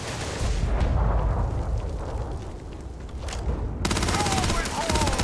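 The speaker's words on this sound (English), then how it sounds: "He's firing back." Enemy gunfire in the Starfield video game, a dense rattling fusillade of rapid shots that runs loud and continuous throughout, with a sharp shift in texture near the end as firing continues.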